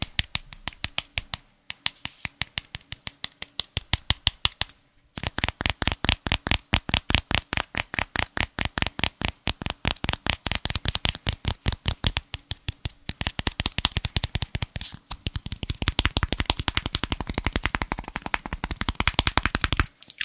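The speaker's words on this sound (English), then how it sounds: "And that's just tapping on it now." A close, fast run of crisp taps on the protective cover over a Yeti microphone, continuing steadily with a couple of brief pauses and no speech.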